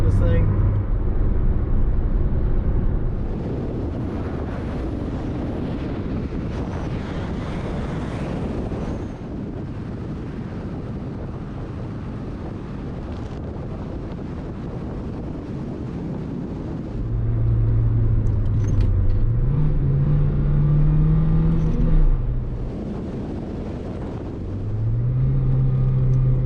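A high-mileage Nissan Juke, a small front-wheel-drive car more than 15 years old, drives with a steady low engine rumble and wind noise, then accelerates through gears with rising revs and loud surges, while a person talks over it.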